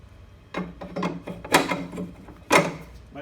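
Diamond floppy tooling heads clicking and knocking as they are fitted and locked onto a floor machine: a few close, irregular mechanical clacks and rattles separated by short pauses.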